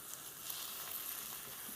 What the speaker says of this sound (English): You can hear there's a little sizzle